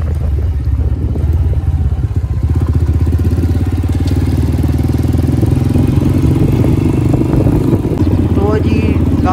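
A motorcycle engine runs steadily at close range, with a low, continuous rumble and some clatter, while people talk nearby during an outing to Lal Sohanra National Park in Bahawalpur.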